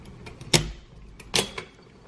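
A motorcycle dog box transmission on a display rig clunks through its gears, two sharp metallic shift clicks sounding close and distinct with a fainter tick after the second, no talk over them.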